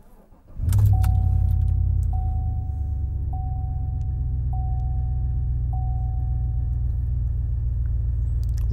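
An engine idling steadily after cold start tuning, a loud, continuous low rumble that settles after starting up, with a faint repeating chime ticking in the background.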